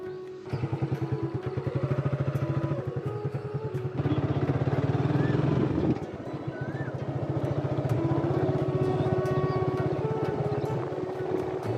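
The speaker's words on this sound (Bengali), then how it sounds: "চলুন একটু বাইক রাইড করে সামনের দিকে যাই" A motorcycle engine putters steadily at close range with a rapid rhythmic thumping, shifting pitch as it rides along, with some wind noise.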